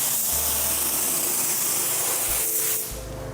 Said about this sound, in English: The reason I'm spraying at high pressure is because I don't want texture.